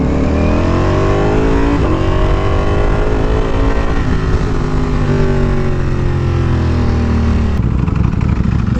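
A V4R motorcycle engine idles unevenly, its rumble steady and close while the pitch drifts and repeatedly lifts into short revs, never settling.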